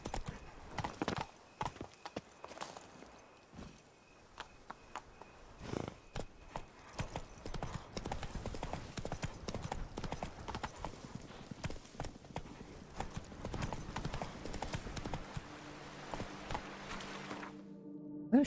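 A horse's hooves clip-clop in a rapid, steady rhythm for the whole stretch as the rider gallops Roach through The Witcher 3. An occasional snort or whinny rises over the hoofbeats, and the sound cuts off abruptly near the end.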